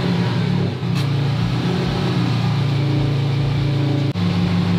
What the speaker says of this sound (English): So we're gonna start it back up.